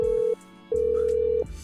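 A ringing tone sounds as a phone-a-friend call is placed, with a short burst and then a longer steady electronic tone, loud and clear with nothing else over it.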